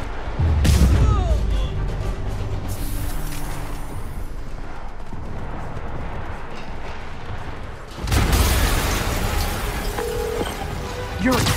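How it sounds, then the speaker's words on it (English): A deep explosion booms at the start and again later, each followed by a long rumbling roar and scattered debris-like noise in a scene from the game Spider-Man Remastered. "An explosion just... I saw it."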